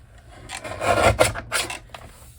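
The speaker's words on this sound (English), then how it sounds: "And that way I can line it up in my trimmer" A paper trimmer slices a straight edge along a journal page in one short, close rasping pass with a couple of scraping strokes.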